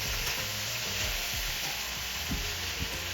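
Peppers and onions for chicken fajitas simmer in a pan with a steady, even sizzle throughout, close and moderately loud, with a few soft utensil knocks near the end and no voices.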